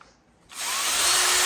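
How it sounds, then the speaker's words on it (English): A power sander works the bottom of a wooden bowl finished in shellac, starting abruptly after a brief quiet moment and then running as a loud, steady broadband whir with a faint tonal hum underneath. "I ended up sanding the whole bottom out"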